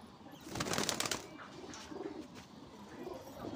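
Pigeons coo softly in a loft, with a burst of wing flapping near the start and scattered low calls continuing faintly afterward over a steady background hum.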